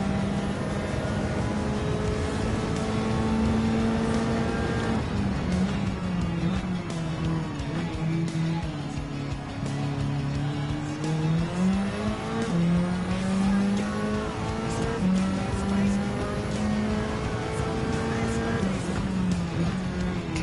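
A Nissan S15 Silvia race car driven in Gran Turismo 7, its loud, continuous engine note climbing and dropping through gear changes, with faint tire squeal while cornering.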